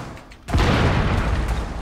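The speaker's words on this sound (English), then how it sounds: "Alright, I'm gonna throw, a smoke," Smoke grenade deployed in Rainbow Six Siege: a sudden loud burst that turns into a sustained, dense hissing rush of gas, following a quieter lead-in.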